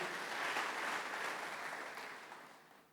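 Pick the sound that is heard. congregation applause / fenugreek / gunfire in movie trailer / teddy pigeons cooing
congregation applause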